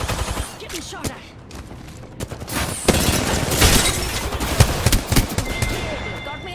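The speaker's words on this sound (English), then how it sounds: "Getting shot at." Heavy automatic gunfire in a shooter game, dense overlapping bursts that stay loud and close throughout, with voice chatter faintly mixed in.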